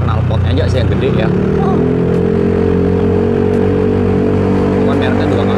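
Close, loud running of a Yamaha Stylo 160 scooter with an aftermarket exhaust: a deep steady hum whose pitch climbs briefly near the start and then holds.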